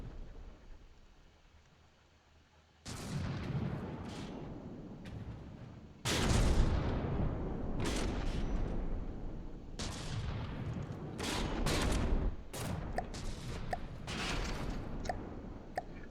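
Heavy booming blasts in a space battle video game, suspected railgun fire, several loud, sharp shots spaced a few seconds apart, each followed by a rumbling decay over a low background hum.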